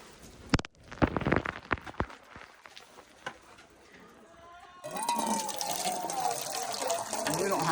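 Water is poured into a rabbit's drinking container in cold weather, a steady splashing fill that grows louder in the last few seconds after some knocks and handling noises.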